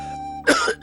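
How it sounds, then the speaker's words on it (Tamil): A single short, close cough from a man, a harsh throaty burst over faint background music in a domestic scene. "ஒண்ணு இல்ல மாப்ள, வெறும் இருமல் தான்."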